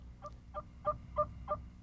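A wild male turkey gobbles in a series of five quick throaty calls, evenly spaced and moderately close, in an outdoor hunting setting.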